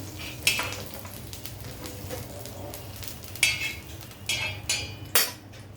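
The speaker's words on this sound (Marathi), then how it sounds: "आपलं कारलं पण छान फ्राय झालंय काढून घेऊया" Bitter gourd (karela) frying on a tava for tawa bhaji, stirred with a few loud scraping clatters of a spatula against the pan over a soft, steady sizzle; no talking.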